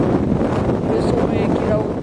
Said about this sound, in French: Jamais le vent ne cesse ici.